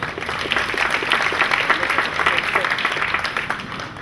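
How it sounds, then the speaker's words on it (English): Audience applause at a company year-end party in Vietnam: dense, continuous clapping from a crowd for the full stretch, with possible voices mixed in. "A little applause."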